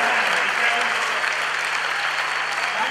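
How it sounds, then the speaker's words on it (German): A party crowd at a winter festival night applauds the cocktail bar in steady, dense clapping that holds evenly throughout with no clear talk. "Gib mal einen Applaus an die tolle Cocktailbar."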